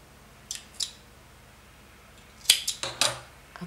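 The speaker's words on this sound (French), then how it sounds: "Je coupe mon fil." Scissors cutting crochet yarn: a pair of quick snips, a pause, then a cluster of three or four crisp close-up cuts and clicks, quiet and isolated with no talking.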